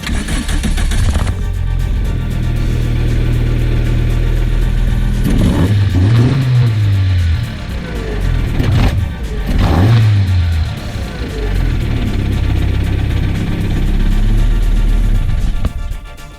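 A car with urethane engine mounts fitted cranks and starts, then idles loudly nearby and is revved twice in rising and falling bursts before settling back to a steady idle.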